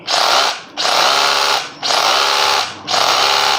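A DeWalt DCH072 cordless rotary hammer drill runs in four loud bursts in hammer mode for masonry, each trigger pull a sustained buzzing whir separated by short pauses, with no talk over it.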